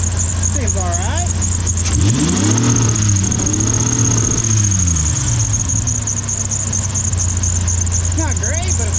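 A red Ford Explorer engine runs loudly nearby with a rough steady drone, revving up and back down in a sweeping rise and fall, while a person speaks over it.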